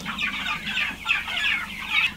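Young turkeys and guinea fowl in a farm brooding pen peep and cluck continuously, a busy chorus of overlapping high chirps heard close up.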